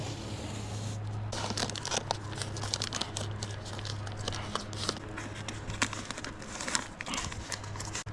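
Masking tape crinkles and tears in quick irregular bursts as it is pressed down before painting a John Deere 210 lawn tractor, with soft handling rustles throughout.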